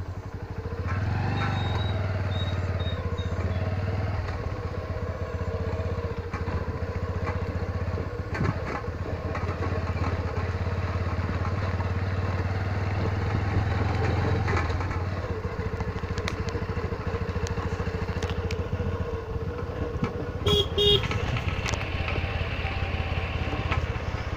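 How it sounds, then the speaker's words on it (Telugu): A motorcycle engine drones steadily while riding on a potholed village road, a constant close rumble with occasional rattles and bumps, lasting the whole stretch. "ఓకే, బయలుదేరుతున్నాం ఇప్పుడు బైక్ మీద."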